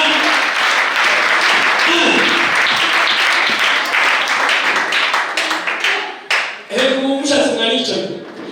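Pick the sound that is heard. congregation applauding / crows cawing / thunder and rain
congregation applauding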